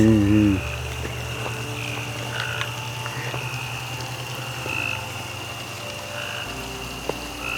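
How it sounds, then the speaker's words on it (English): Many frogs croak densely at night on the grounds of the Myrtles Plantation in Louisiana, a steady, loud chorus that fills the whole stretch, with a low hum underneath. "there's tons of frogs"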